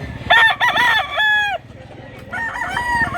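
At a poultry market in Mantalungon, Cebu, a large pumpkin-feathered, yellow-legged rooster gives two loud, close crows, the first long and strong, the second shorter, over low background chatter.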